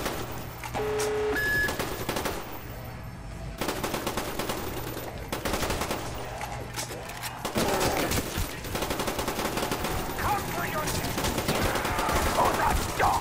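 AK assault rifle fire in Call of Duty zombies on the Moon map comes as dense, continuous automatic bursts close up, with short pauses between volleys and a player talking over the shooting.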